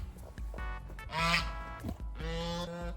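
A pet goose honks repeatedly up close, loud nasal calls in quick succession with brief pauses, while a person is heard talking softly around them.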